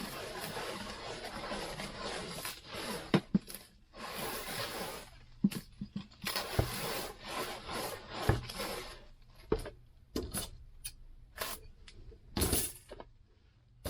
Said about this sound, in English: I'm going to put a little bit of stretch wrap on this.